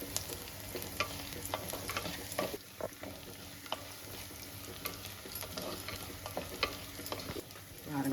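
Green chillies and curry leaves fry in oil as the base for a sardine curry, with a soft continuous sizzle and occasional spoon scrapes and stirring knocks close by, fairly quiet and with no talk.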